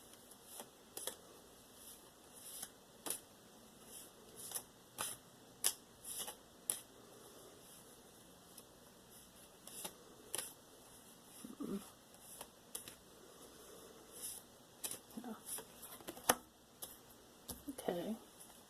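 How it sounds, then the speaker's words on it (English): Tarot cards riffled in a waterfall shuffle, faint crisp ticks and flutters scattered irregularly throughout, close by and quiet over a low background hiss. "I'm going to do the waterfall shuffle."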